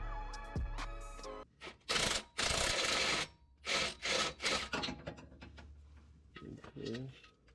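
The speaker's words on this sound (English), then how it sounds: "Now we have to unbolt this." Near, crisp bursts of ratcheting as a wrench loosens bolts on the exhaust mid pipe of a 2014 Mustang 3.7 during a header install, several quick runs separated by short pauses.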